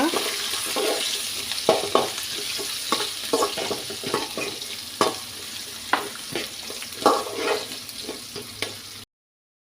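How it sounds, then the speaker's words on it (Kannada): Chopped green chillies and ginger frying in a pan, with a steady sizzle and repeated sharp scraping stirs, close and without talk. "ಇದಕ್ಕೆ ಹಸಿಮೆಣಸು ಒಂದು ನಾಲ್ಕು ಸಣ್ಣ ಸಣ್ಣದಾಗಿ ಕಟ್ ಮಾಡಿದ್ದು ಹಾಕ್ಕೊಳ್ತಾ ಇದ್ದೇನೆ ಮತ್ತು ತುಂಡು ಶುಂಠಿ"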